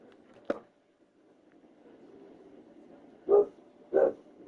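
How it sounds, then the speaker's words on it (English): A dog in a Pathfinder: Wrath of the Righteous game scene gives three short barks, one early and two close together near the end, moderately near over a faint background hum. "What are you barking at?"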